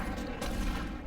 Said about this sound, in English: I don't know why I'm using shotgun here